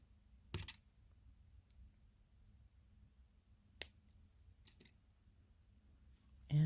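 Jewelry wire being clipped off with small cutters while making earrings: a few sharp, isolated snips spaced seconds apart, close and crisp against near silence.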